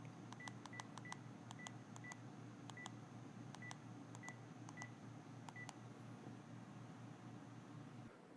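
A Panasonic KX-TGM450S cordless phone dials a number: a quick irregular string of short touch-tone beeps, clear but not loud, over a low steady background hum, with no voices.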